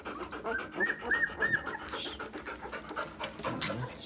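Purebred Labrador retriever puppies pant in quick, soft, continuous breaths close by, with faint chirps and small whimpers mixed in.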